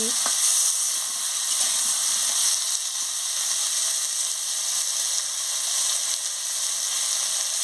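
Vegetables stirred in a hot frying pan give off a steady, close hiss and sizzle, with faint scraping clicks from the stirring scattered throughout.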